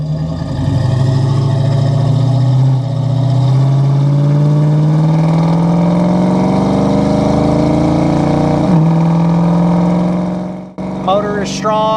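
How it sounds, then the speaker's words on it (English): A 1990 Ford Mustang LX coupe with a 5.0 V8 and AOD automatic accelerates hard on a test drive, the engine note rising loudly and steadily through the gears with a shift dip midway and a brief drop near the end. "Motor is strong. That AOD shifts like it should."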